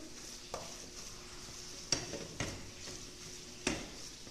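Chicken pie filling is stirred in a pan: a quiet, steady sizzle with a few sharp scrapes and clicks of a utensil against the pan, spaced unevenly, with no talking.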